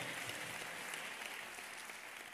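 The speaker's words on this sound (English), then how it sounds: "let's give the Lord another round of applause and welcome those who have joined us virtually." A church congregation at a Sunday service applauds in a dense, even wash of clapping, faint and steady throughout with no break.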